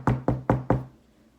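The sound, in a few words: knock at the door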